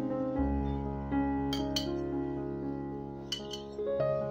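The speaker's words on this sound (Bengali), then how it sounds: "এবারে আমি একটা প্লেটে তুলে নেব।" Fried medu vadas are set onto a plate, giving a few light clinks and taps of ceramic and utensil against a quiet, hushed background.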